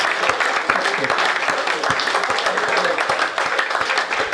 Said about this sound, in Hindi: एक बार हाथ उठाकर तालियां बजाइएगा